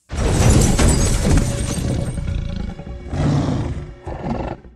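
A zombie tiger from the film Army of the Dead lets out loud, rough roars, one long sustained roar followed by two shorter bursts, with no speech.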